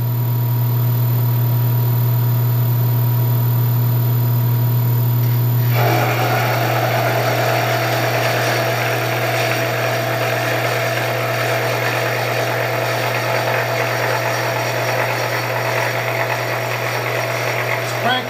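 A Bridgeport milling machine runs with a steady motor hum, then its cutter bites into 3/8-inch-thick plate with a dense, grinding whir that continues evenly to the end; someone talks briefly over the machining.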